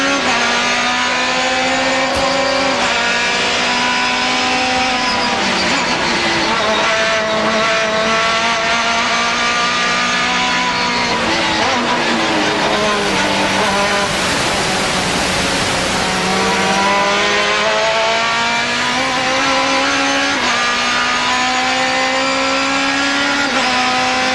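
GT2 race cars battling at the 1999 SCCA Runoffs, a loud Porsche engine note climbing and falling through gear changes, sustained and close with rising and dropping pitch sweeps from nearby cars.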